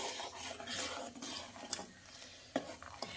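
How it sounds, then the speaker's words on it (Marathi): A spoon scrapes and stirs milk for rice kheer with dry fruits and grated coconut in a pot, giving quiet continuous swishing with occasional soft clinks against the metal. "तर आता हे घट्टसर होईपर्यंत आपल्याला हे दूध असंच फिरवत राहायचं आहे"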